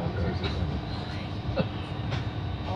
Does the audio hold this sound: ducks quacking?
no